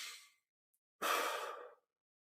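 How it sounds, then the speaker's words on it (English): Deep meditative breathing, a fading exhale followed after a pause by one long, close, airy inhale drawn through the throat, alone in silence. "Breathing deeply here to open up the throat."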